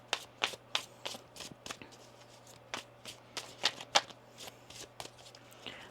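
Tarot cards being shuffled by hand, a series of crisp riffling bursts and light taps in uneven clusters, close and fairly quiet over a faint steady hum, with no talking.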